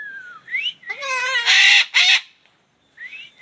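Pet birds chirp and squawk back in loud, close bursts of warbling, voice-like calls, with short pauses between phrases and no human talking.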